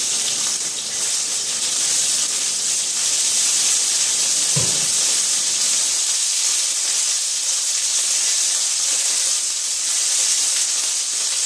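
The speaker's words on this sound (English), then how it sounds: "Give my hands a quick wash" Hands washed under a running kitchen tap: a loud, steady hiss of flowing water over the sink, with one brief knock midway and no talking.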